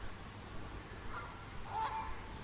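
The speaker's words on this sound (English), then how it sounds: "They're Canada geese, not barnacle geese as we previously thought" Canada geese honk faintly in the distance at a campsite in Dumfries, a few soft calls rising briefly over steady low background noise.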